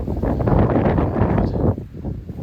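Wind gusts across an exposed rocky hilltop wild camp at Ashway Rocks in the Peak District, a loud close rumbling buffet that eases toward the end, with no talking.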